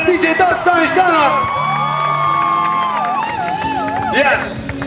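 A concert crowd at an outdoor show in Vălenii de Munte cheers for a hip-hop DJ with loud whoops and long shouted calls over a murmur of voices, close and lively throughout.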